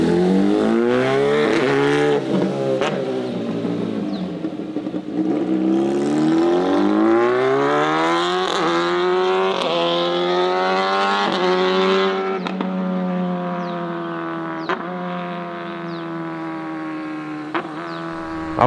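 A Kawasaki Ninja ZX10R with a loud aftermarket exhaust revs hard and close, its engine note sweeping up and down in long throttle swells with sharp pops between, loud and sustained.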